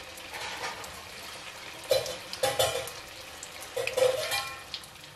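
Food frying in sunflower oil over a medium flame, a soft steady sizzle broken by a few brief clinks and stirring bursts.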